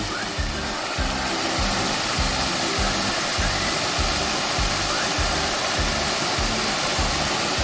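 A spinning paddle wheel aerator at a hospital wastewater treatment pond, giving a loud, continuous rushing churn of water with a steady rhythmic slapping pulse about every half second.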